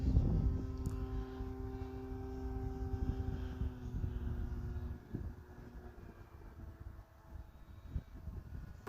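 An FMS Beaver 2000mm foam RC plane flying at about half throttle, a steady electric motor drone with a sustained tonal whine over wind noise, fairly close and slowly easing off.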